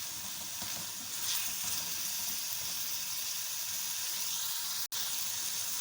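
Chopped tomatoes frying in a kadai for a chicken kofta curry, giving a steady, close broadband sizzle with a brief pause near the end and no talking.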